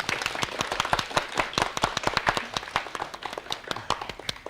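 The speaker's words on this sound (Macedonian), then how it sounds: "на почетокот на квизот да ги поздравиме со еден аплауз" Studio audience clapping to welcome contestants at the start of a children's television quiz show: brisk, sharp claps in a lively, uneven rhythm, close and clear for several seconds, with no talking over them.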